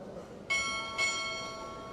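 Two crisp strikes of a ship's bell sound half a second apart during a naval chief petty officer pinning ceremony, each clear metallic ring lingering and decaying.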